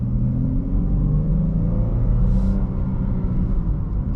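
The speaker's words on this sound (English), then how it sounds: "the engine revs up and gives you all that power" A 2021 Chrysler 300S sedan with a V6 engine revs up and accelerates, a loud, close, steady low rumble that holds through the whole stretch without speech.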